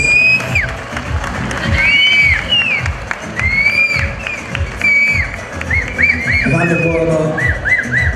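Wedding guests break into loud, sustained applause and cheering, with sharp piercing whistles cutting through the crowd noise throughout.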